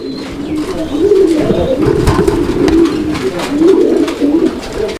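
A pair of Rajshahi Giribaz pigeons kept for sale coo loudly and close by. Their deep, rolling calls repeat in waves almost without a break.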